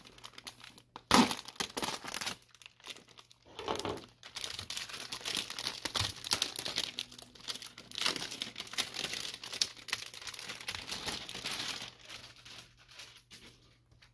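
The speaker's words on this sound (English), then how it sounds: "Go ahead and cut this open here." Plastic packaging around a Vaultx card binder crinkles and tears as it is cut open, a busy run of close rustling and ripping with sharp bursts throughout.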